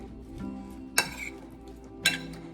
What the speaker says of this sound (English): So I'm just gonna mix that all together.